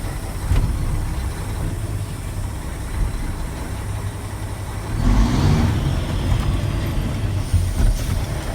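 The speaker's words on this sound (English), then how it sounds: "I'm in the first gear and driving at least 5 miles per hour for at least 10 foot." A truck rolls slowly in first gear during a brake test, its engine giving a steady low rumble that swells briefly midway, with faint rattles and no talk.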